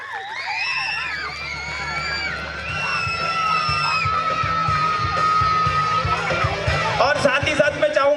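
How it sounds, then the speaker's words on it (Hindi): A school crowd of children cheers and shouts for a child, Divyansh Bhagat, with steady, rhythmic clapping that grows fuller midway and continues loud to the end. "जोरदार तालियां हो जाए दिव्यांश भगत के लिए"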